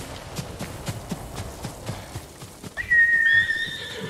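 In Ghost of Tsushima, a horse's hooves beat in a steady rhythm, then the horse lets out a loud whinny near the end.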